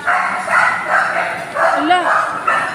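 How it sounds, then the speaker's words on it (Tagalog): A dog yips and barks several times close by, short bursts mingled with people talking. "May aso pala dito."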